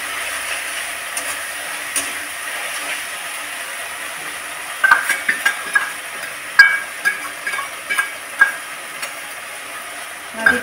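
Spice paste with softened, melted tomato is fried down in a pan, a soft, low hiss of frying joined in the second half by a series of distinct spatula scrapes and taps.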